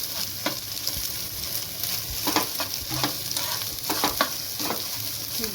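Egg bhurji fries in a pan for an egg biryani, a constant sizzle broken by repeated scraping strokes of a spatula stirring the scrambled egg in an irregular rhythm.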